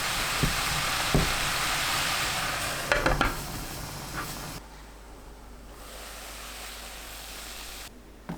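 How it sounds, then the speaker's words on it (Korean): Broccoli steaming in a covered pan with water over high heat gives a loud, steady hiss with a few clinks, then drops to a quieter, softer simmering hiss. "물 100ml 넣고 뚜껑 닫아 센 불로 2분 익힙니다."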